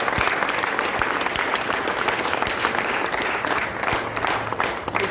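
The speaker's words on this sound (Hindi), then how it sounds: "एक जोरदार ताली आप अपने लिए बजाइए" Applause from a large crowd at a Bhim Jayanti gathering, steady dense clapping that fills the whole stretch without pause, loud and close with a few sharper individual claps standing out.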